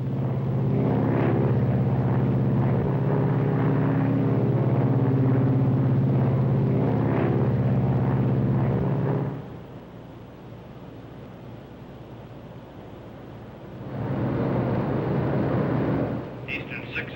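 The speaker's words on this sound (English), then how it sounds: "Gear down. Gears coming down." Steady loud engine and airflow drone inside a 1953 airliner cabin as flaps and landing gear lower for landing, the roar dropping partway through then swelling again, with cockpit voices over it.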